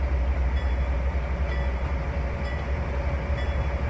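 Train rolling in Trainz 2019 while a container train is driven into the southern Tidewater yard, a steady continuous low rumble and drone of rail running, loud and unbroken, with no voices.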